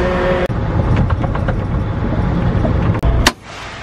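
A truck being driven and parked inside a workshop, with a steady, close engine rumble throughout. A couple of brief knocks break it, and a sharp click comes near the end as the noise drops away.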